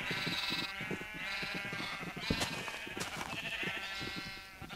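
Sheep in the video game Minecraft bleat repeatedly, several wavering baa calls close up and fairly clear, overlapping with soft background game sounds and no speech.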